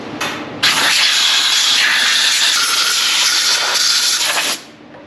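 Compressed air blasting out the spark plug wells of a 1956 GMC 100 big window short bed pickup: a loud, steady close hiss running about four seconds after a brief opening puff, then cutting off.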